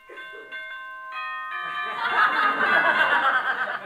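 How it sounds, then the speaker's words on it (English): A boxing bell rings for the first round as a sound effect in a 1950s radio comedy show, several clear ringing strikes at the start, followed by an audience breaking into growing laughter. "Here's the bell for the first round."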